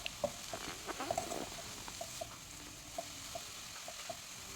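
Grated coconut being stirred into cheera chembu (taro leaf) thoran in a pan over low flame, with soft close spoon scrapes and light ticks against a faint steady sizzle.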